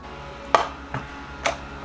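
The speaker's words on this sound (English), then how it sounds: "And then going in with just a little bit more setting spray." Setting spray misted onto a face, three quick separate hissing spritzes about half a second apart, close and fairly soft.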